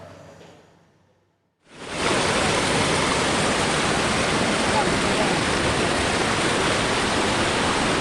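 Flash flood from a burst river embankment tearing through a village: a sudden surge into a loud, continuous roar of rushing water after a brief quieter start.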